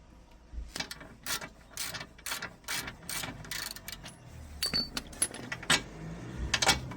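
A ratchet wrench undoes the front 21mm lower suspension bolt on a Nissan Leaf during a wishbone control arm replacement, producing close, repeated bursts of sharp ratcheting clicks in an irregular rhythm with short pauses.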